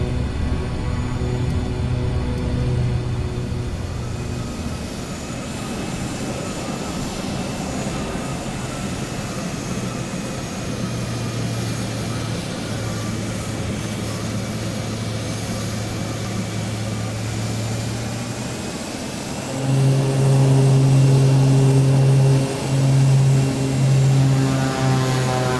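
A MilViz PC-6 Porter turboprop taxis in Microsoft Flight Simulator, its engine holding a steady humming drone for most of the run before swelling louder with added power near the end; no talk is heard.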